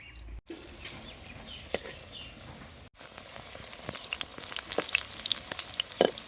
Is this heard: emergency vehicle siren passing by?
no